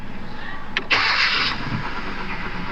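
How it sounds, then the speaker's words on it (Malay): A 2011 Kia Forte with a rough-running engine starting up: a brief cranking whine, then the engine catching into a steady idle close by. "Kita cuba try dulu start."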